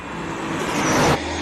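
A race car at the 2024 Simola Hill Climb, running with an engine misfire, roars past nearby in a rough, broad burst that cuts off abruptly after about a second.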